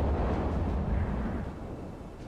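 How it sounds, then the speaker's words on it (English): A deep, rumbling blast as a drone-dropped explosive hits a tank turret in wartime Ukraine, rolling on and gradually fading, heard at a distance with no voices. "the second drone drops an explosive directly onto the tank's turret"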